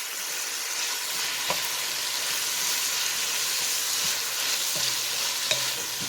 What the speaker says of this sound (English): We just have to keep this sauteing